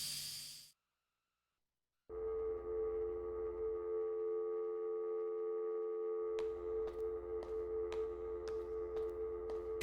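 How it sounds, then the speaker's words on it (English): A phone left off the hook in the video game Kentucky Route Zero drones a steady electronic tone that stops briefly, then resumes with a low hum and regular clicking pulses, close and alone. "Can someone please put the phone back on the hook? I fucking hate that sound."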